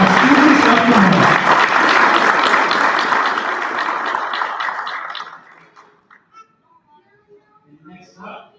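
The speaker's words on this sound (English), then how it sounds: "One last round of applause for all of our students of the month." An audience at a school district board meeting applauds students of the month with loud, dense clapping that gradually thins out and fades into a few scattered claps and quiet room noise, with a voice speaking near the start.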